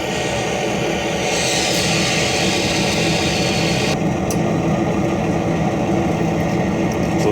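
Diesel engine sound from a DCC decoder in a model locomotive runs at a steady, continuous drone with low rumble throughout, a brief higher hiss partway through, and no talking.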